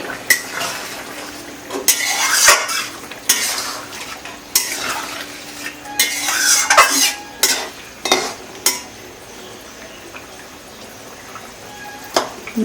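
Fried boiled potatoes stirred into a pork curry in a pan, with a metal spoon scraping and clinking against the pan in bursts over a soft sizzle, then thinning to occasional taps.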